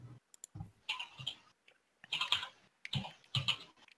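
Someone typing quickly on a computer keyboard, with clicking key strikes arriving in several bursts separated by short pauses, close and clear.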